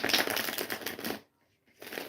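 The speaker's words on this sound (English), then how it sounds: "we're going to go ahead and shuffle" A deck of tarot cards being shuffled close up, with a quick riffling flutter that stops for about half a second and then starts again, quiet and alone.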